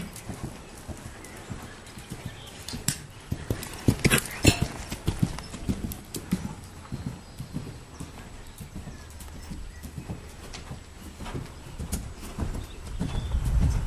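Horse cantering in a riding arena, a rhythmic run of hoofbeats thudding on the ground at moderate distance, steady throughout with a few louder strikes and some faint background noise.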